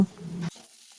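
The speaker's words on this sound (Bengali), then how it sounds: "ডাঁটাগুলো দিয়ে এটাকে বেশ কিছুক্ষণ আরো ভালো করে ভেজে নেব।" Vegetable stalks frying in a pan for neem jhol, a Bengali dish: a brief burst of close sizzling and stirring that cuts off abruptly after half a second.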